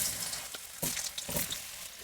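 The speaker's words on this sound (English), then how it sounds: "Oil is hot. I'm frying now potato." Potato pieces fry in hot oil in a seasoned karai, a steady close sizzle with a few sharper crackling bursts as they are stirred, and nobody speaking.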